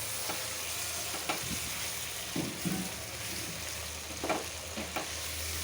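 Tomatoes frying in a pan of rohu fish curry with broad beans, a steady close sizzle and bubble with occasional stirring scrapes, no talk.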